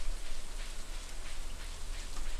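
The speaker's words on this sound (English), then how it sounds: "considering it's a rainy day already now" Steady rain in the Stardew Valley video game, a soft, even patter that stays constant and fairly faint with no other sounds on top.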